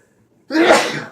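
A single sharp sneeze bursts out after a brief silence, loud and close, trailing off quickly.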